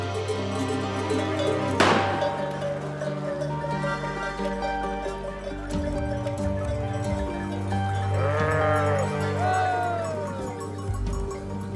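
A large migrating flock of about 400 nomad sheep and goats bleats repeatedly, near and far, over a steady outdoor rumble, with a sharp clatter early on and faint voices in the background.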